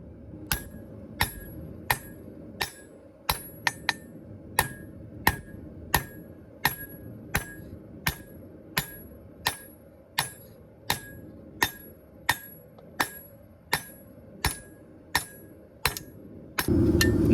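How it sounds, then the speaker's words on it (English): A round-faced hammer strikes hot steel while forging a small hunting knife by hand, a steady series of about twenty sharp ringing blows at an even, unhurried pace, close and loud. "it is because I'm using a hammer with a very round face"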